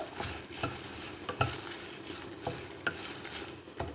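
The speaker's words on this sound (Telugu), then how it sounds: "దీంట్లోనే నేను వెల్లుల్లిపాయ జీలకర్ర కొంచెం మెంతులు తీసుకున్నాను కదా అవి కూడా ఒక్కసారి జస్ట్ అట్లా వేయించేస్తాను" Garlic, cumin and fenugreek seeds frying in a pan for gongura pachadi, a quiet sizzle with repeated sharp scrapes and taps of a spoon stirring at an uneven rhythm, close and without talking.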